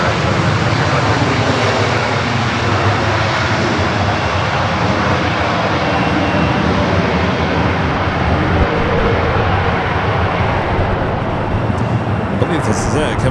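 A Boeing 747-400 jet roars steadily at LAX, a broad loud wash of engine noise lasting throughout, with voices talking over it.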